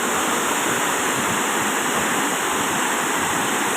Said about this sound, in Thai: น้ำตกนี้คิดว่า ที่ไปมาน่าจะสวยที่สุดแล้วครับ เพราะว่าตกจากภูผาสูง ภูเขาสูงครับ